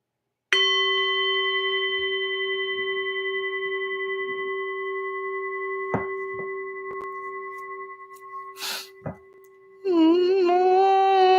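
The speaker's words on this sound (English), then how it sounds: "we should ring the bell. Let's try it." A single bell struck once rings out with a long, clear, slowly fading tone, followed by a few soft knocks and a brief rustle, then a warbling sung or spoken note at the end.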